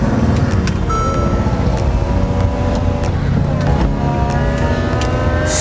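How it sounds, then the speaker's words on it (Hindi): A Mercedes SLK roadster with a hard-top convertible roof idles and revs nearby, its engine running steadily with rising and falling whine and a few sharp mechanical clicks, while someone talks over it. "if you look at the sound of the engine, you know the roar of the engine"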